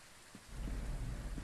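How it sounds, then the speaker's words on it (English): Rain and rolling thunder in the ghost-hunting game Phasmophobia: a steady hiss of rain swells into a deep, loud thunder rumble that fills the remaining second, with no talking. "It's raining."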